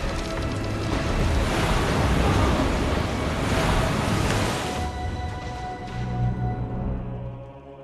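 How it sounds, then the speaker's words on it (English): Strong storm wind and crashing sea waves at sea, a loud, continuous roaring wash that swells and surges steadily throughout, with a deeper rumbling gust rising near the end. "The wind is too strong!"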